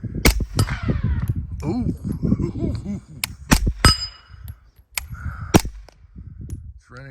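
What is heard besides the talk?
Pak-9 AK pistol firing rounds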